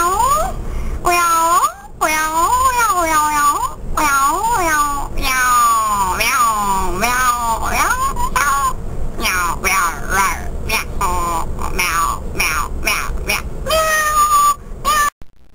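A cartoon character voices a long run of meows imitating a cat, loud, close and continuous, in exaggerated, sing-song caterwauling cries.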